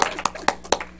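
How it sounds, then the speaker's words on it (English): Audience at a Toastmasters-style club meeting clapping in a few sharp, loud bursts, close and brief, with voices mixed in. "applaud yourselves"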